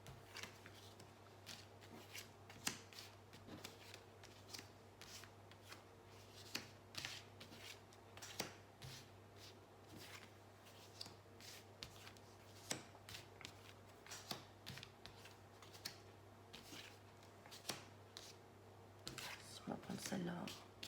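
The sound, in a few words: shuffling tarot cards for a 15-card reading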